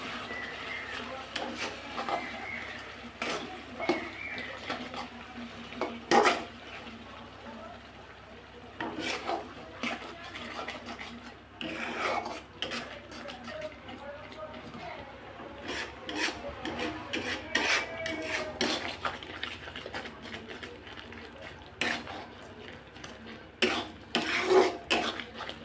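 Spices and oil stirred in a pan for lemon chicken curry, a soft, irregular scraping and rasping of a spoon against the pan, faint and close, with scattered clinks and a speaking voice at points.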